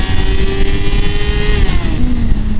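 A Suzuki GSR400 motorcycle accelerates hard in first gear, its engine screaming loud and close with a steady high-pitched whine that climbs, then dips briefly near the end.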